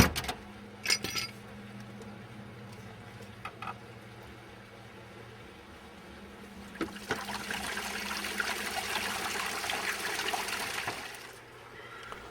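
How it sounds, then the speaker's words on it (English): Water rushing through low-pressure, gravity-fed koi pond pipes during a flush, a steady trickling wash that swells louder in the second half before easing off near the end. "So a couple of times a year I flush the pipes out."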